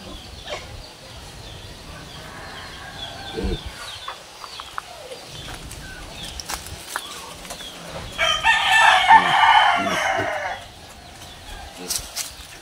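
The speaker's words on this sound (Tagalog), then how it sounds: "Maraming manok dito sa baba guys." Chickens cluck nearby while a rooster lets out a loud, drawn-out crow midway, with scattered rustling and a few soft sounds around it.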